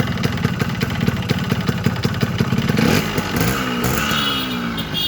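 A Yamaha RX 100 motorcycle engine runs close by, a steady rattling two-stroke idle that swells into a rougher, louder rev near the middle before settling back to a throaty hum.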